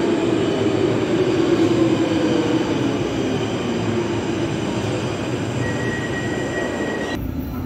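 A Brussels metro train on line 5 pulls into a station with a loud, continuous rumble and faint wheel squeal, and a thin steady tone rises near the end before the noise shifts.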